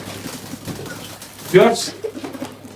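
Pigeons in a loft give a brief, close cooing call midway through, against a quiet indoor background with faint low murmuring.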